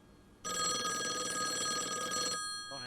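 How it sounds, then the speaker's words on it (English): A telephone rings in the video game Call of the Elder Gods, one loud sustained electronic bell tone lasting about two seconds, then fading away. "we'll answer the phone in a minute"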